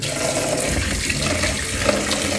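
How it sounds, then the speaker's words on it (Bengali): Water splashes and runs steadily as fish is washed with salt and water, a continuous close gushing sound with no voices. "তাই ভালো করে মাছটাকে ধুয়ে নেবো লবণ দিয়ে"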